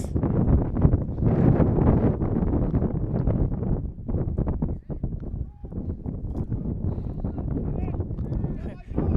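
Wind at an outdoor high school boys' soccer match buffets the microphone with a steady, heavy low rumble throughout, while voices can be heard faintly beneath it.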